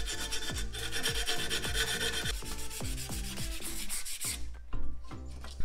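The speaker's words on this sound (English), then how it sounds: "a little bit of sanding." Hand sanding of a mitered, fillet-brazed steel ICR bicycle quill stem in a framebuilding shop, a rhythmic series of rasping back-and-forth strokes, close and steady with no talk.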